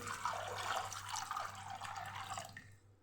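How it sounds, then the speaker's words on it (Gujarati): Water pours steadily into a metal pressure cooker holding chickpeas, a continuous splashing stream that runs for a few seconds before cutting off near the end. "હવે આપણે પાણી ઉમેરશું"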